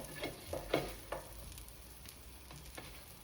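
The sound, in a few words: French toast frying in a pan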